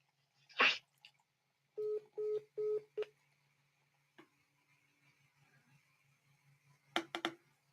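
Telephone tones during hang-up: four short, even electronic beeps in a quick steady row, then faint line noise and a few brief clicks and bursts, all fairly quiet with no talk.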